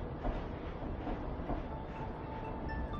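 Train rattling along the tracks in the video game Stray, a steady dense rumble with soft rhythmic clunks, moderately loud and continuous, no voices.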